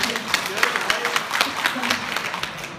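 An audience claps together at an indoor testimonial-sharing gathering, a dense patter of hand claps lasting a few seconds with a voice talking over it.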